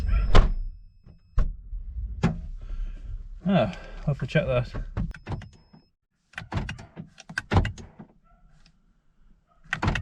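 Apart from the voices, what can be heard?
Toyota MR2 car door shutting and opening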